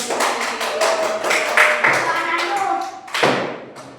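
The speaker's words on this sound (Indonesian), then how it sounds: "tepuk tangan dong" Children clap their hands in a classroom during a maths lesson, a quick run of sharp claps and taps close by, with voices talking over them.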